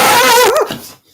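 A single loud, close dog bark, a sharp tonal yelp that bends upward then breaks off, followed by a short silence.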